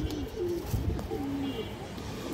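A Giribaz pigeon gives a few soft, low coos close by against a noisy background.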